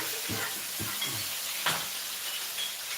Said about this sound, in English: this is basically almost deep frying it in butter